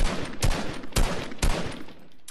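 Gunfire from shooting in Fortnite cracks out in three sharp, evenly spaced shots about half a second apart, fairly loud and close, with a fainter fourth shot at the end.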